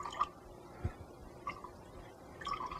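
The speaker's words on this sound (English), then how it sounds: "And I'll drizzle the water on top." Slow drips of water falling into a glass of absinthe, a few soft separate plinks spaced roughly half a second to a second apart, close and quiet over faint room noise.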